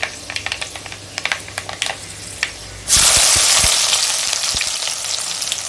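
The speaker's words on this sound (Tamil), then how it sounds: "எண்ணெய் நல்லா காஞ்சிடுச்சு. இப்போ வெந்தயம் போட்டுக்கலாம்." Fenugreek seeds drop into hot sesame oil for a drumstick fish curry, setting off a sudden loud sizzle after a stretch of quiet clicks and taps, then a steady crackling fry that slowly eases off.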